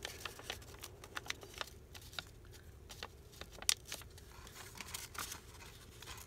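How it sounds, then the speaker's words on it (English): A small paper bag from French fries packaging is handled at close range, giving a run of dry crinkles, rustles and light taps that come and go at an irregular pace, with no voices. "Okay, so this is my little paper bag."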